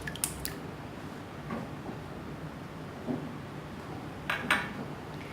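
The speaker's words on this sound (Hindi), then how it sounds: "ये 3 अंडे डालेंगे" Eggs for caramel egg pudding are cracked and dropped into a bowl, giving a few light taps and clinks spread out amid quiet kitchen handling.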